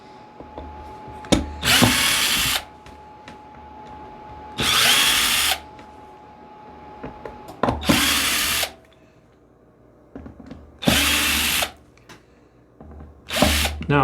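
A power screwdriver backs out pickguard screws on an electric guitar, five separate whirring bursts of about a second each, with small clicks and handling noises in between.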